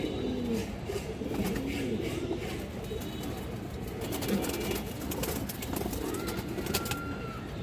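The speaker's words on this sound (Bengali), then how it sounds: "কবুতরটা দেখেন মাশাআল্লাহ, খুবই সুন্দর একটা মাদি" Female Homer pigeon at a farm cooing softly in several low, rolling phrases, set against steady ambient noise with brief higher bird chirps.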